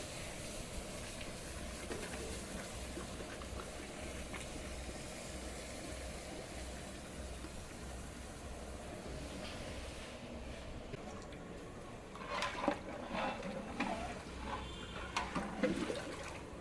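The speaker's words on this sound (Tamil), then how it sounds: "அந்த ஜீனியை ஃபுல்லாக அந்த தண்ணியில் ஊற்றி நல்லா கிண்டி விட்டுடலாம்" Sugar is poured in bulk into water for a large batch of wedding-style bread halwa and stirred, giving a steady soft watery rush that turns into louder splashing, sloshing bursts near the end, with no talk.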